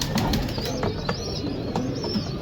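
An old female pigeon coos softly amid a brief flutter of flapping wings, faint and close over a steady background hiss.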